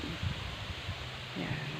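Steady afternoon wind blows across the microphone with a broad rushing noise and gusty low rumbles, faint rustling underneath, no talking.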